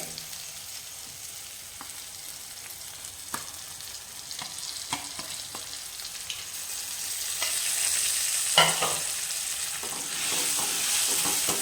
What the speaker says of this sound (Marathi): डाळाचं आधी छान परतून घेऊया